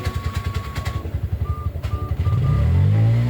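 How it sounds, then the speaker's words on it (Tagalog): A Bajaj RE auto rickshaw engine putters in a fast, regular chugging rhythm close by, then revs up into a louder, smoother roar near the end. "pakinggan muna natin yung tunog ng makina"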